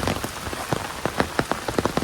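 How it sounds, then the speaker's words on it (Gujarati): Rain pattering steadily on a nearby umbrella, with irregular sharper drops tapping through a constant wet hiss, during the monsoon in Saputara. "વરસાદ તો ચાલુ છે હું છત્રી લઈને આવ્યો છું"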